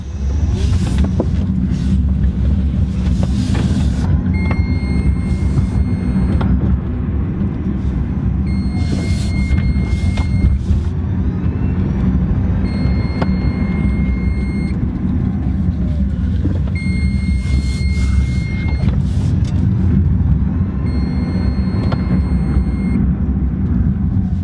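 A Tesla electric car with a revived battery pack is driven, giving a loud steady road and motor drone from inside the cabin with faint periodic electronic beeps and tones.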